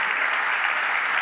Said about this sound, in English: I was going to ask for another round of applause for you for getting through that.